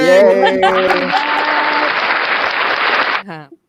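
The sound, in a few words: applause track sound effect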